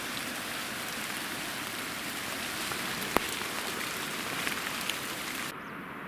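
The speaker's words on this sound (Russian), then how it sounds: "Ливанул дождь. И лил 30 минут." Steady rain pours down in a dense, even hiss on a mountain trek in Altai, close and continuous, with a single sharp tap partway through and no voices.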